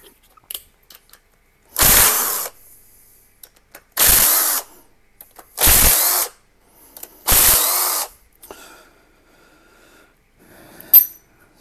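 A socket wrench is used while working on an overdrive. Four loud, harsh bursts of about half a second each come at roughly regular intervals, close, with faint clicks and handling noise between them.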